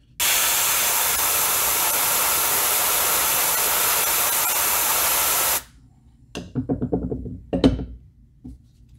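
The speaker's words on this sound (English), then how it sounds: "I'm gonna lay this here carefully and I'm gonna spray and let it fade" A continuous loud hiss of spray paint on a wooden fishing lure runs for about five seconds, then stops, followed by a few short knocks and rustles.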